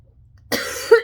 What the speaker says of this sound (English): My throat is very dry today, and I'm probably gonna cough again.